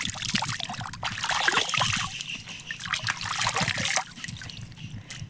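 Water trickles and splashes as hands scoop it to wash a face, a steady close dribble with irregular splatters throughout.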